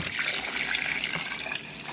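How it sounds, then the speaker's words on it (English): Tap water pours steadily into a slow cooker pot in a home kitchen, a continuous close splashing and rushing fill with no talking. "I top it off with water, like fill it up as much as I can with water, almost to the top"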